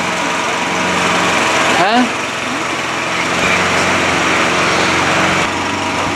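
A lawn mower engine runs steadily and close by on a hot day at a cabin, a constant drone with a brief voice breaking in over it.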